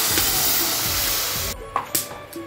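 Water is poured into a hot pan of fried potatoes seasoned with salt, turmeric, green chili paste and cumin paste. A loud, steady sizzling hiss cuts off abruptly, followed by a few light clinks and soft bubbling.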